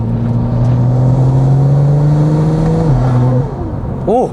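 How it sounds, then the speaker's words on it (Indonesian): A modified car engine with a performance intake, upgraded toward 500 horsepower, holds a loud sustained rev in gear with a deep droning tone and intake roar, then drops off and rises briefly again near the end. "Aduh gila, suara intake enak banget."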